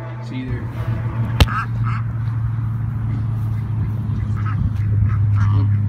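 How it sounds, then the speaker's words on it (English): Ducks quack near a bass-fishing spot, scattered calls close by over steady outdoor background noise, with one sharp knock partway through and a person talking. "Get away from these ducks."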